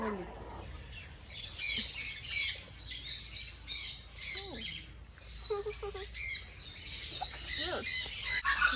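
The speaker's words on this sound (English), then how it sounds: "This is a Senegal parrot." A Senegal parrot at a pet sanctuary lets out a series of harsh, close squawks and chirps in irregular bursts, with short pauses between calls.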